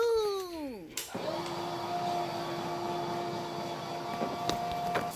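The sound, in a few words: steam mop cleaner starting up and running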